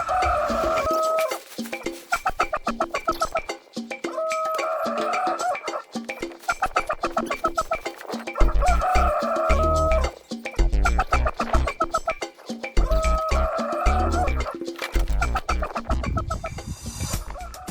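Hens in a backyard coop that is being cleaned out, giving repeated clucks and short calls in rhythmic bursts every few seconds over a busy, continuous background of activity.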